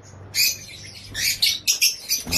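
Pet birds chirp in a series of bright, high tweets and short calls that come close to the microphone after a brief quiet start, over a faint low hum.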